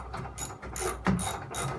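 A ratchet tightens bolts on the swivel brackets of a 1964 Mk1 Mini, several quick rhythmic bursts of close, crisp clicking in short back-and-forth strokes.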